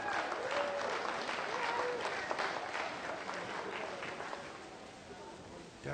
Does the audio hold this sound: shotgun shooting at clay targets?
no